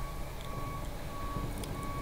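A concrete mixer truck reversing at a small house foundation pour, its backup alarm sounding a steady series of evenly spaced beeps over a constant low engine rumble.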